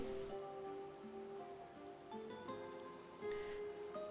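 Steady rain patters on surfaces at a low, even level, with a faint tonal hum running underneath and no voices; rain and fog in the video game Final Fantasy XIV.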